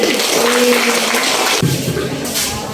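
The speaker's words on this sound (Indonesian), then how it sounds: "Ya, beri tepuk tangan lagi." Students in a classroom applaud group 1 after its presentation, a steady, dense patter of many hands that holds for the whole stretch and eases slightly near the end.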